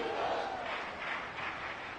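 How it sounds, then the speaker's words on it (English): Roaring stadium crowd noise from a Vikings versus Eagles football simulation on PS5 holds a steady, dense wash of cheering and yelling throughout, with no commentary over it. "This crowd turning up the decibel level."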